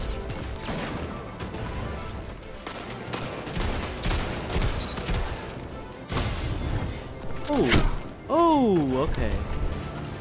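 Shotgun blasts crack out amid dense game combat in a Destiny Iron Banner match, layered over loud, continuous firefight noise with talk running throughout and warbling effects near the end.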